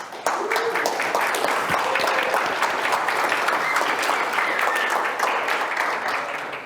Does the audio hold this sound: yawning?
no